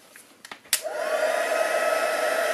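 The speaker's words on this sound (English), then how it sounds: "And then as you heat, the embossing powder becomes shiny again, but it keeps the colour." After a few light clicks, a heat tool starts up and blows a steady, close, loud whirring rush of hot air to melt embossing powder on a stamping project.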